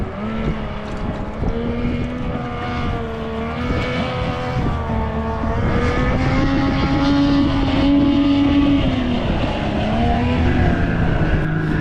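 Rebuilt 1976 Mercury 650XS racing outboard running steadily on a boat, a loud, close, buzzy engine drone that holds near idle with slight pitch wavers and no talk.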